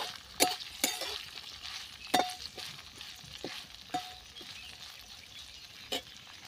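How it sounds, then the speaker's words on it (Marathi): Cluster beans (guar) sautéing in oil in a pan, with soft sizzling and occasional light scrapes of a spatula, quiet and close. "तर गवार आपण पुन्हा एकदा परतून घेऊया."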